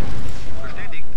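A short, loud, rumbling burst as a Chronosphere explodes in the Command and Conquer Remastered strategy game, with a voice talking over it.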